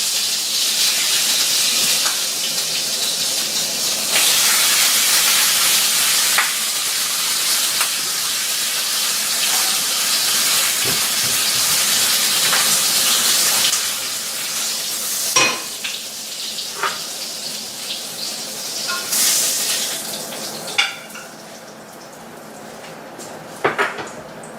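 Pork chops sizzling in a hot greasy pan, a loud continuous hiss and crackle of frying with occasional clinks and scrapes of utensils against the pan, no talking.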